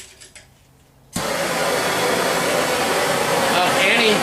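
A torch flame heats a crucible melting dish being seasoned. It starts after a short quiet moment, then holds as a loud, steady, close roaring hiss to the end.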